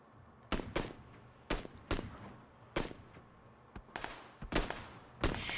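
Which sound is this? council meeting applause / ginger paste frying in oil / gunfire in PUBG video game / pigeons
gunfire in PUBG video game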